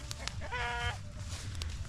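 Chickens on a farm property cluck in a brief burst, with a short harmonic call standing out over steady low background noise, close by and moderately loud.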